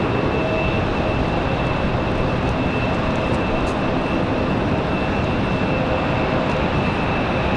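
An airliner takes off with early rotation on a very windy afternoon at Raleigh Durham International, its broad engine roar steady and loud at a distance, mixed with wind rumble and no clear talk.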